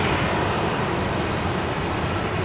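Embraer Legacy 650 business jet coming in to Dallas Love Field, a loud steady broadband jet roar filling the whole moment without pause or talking.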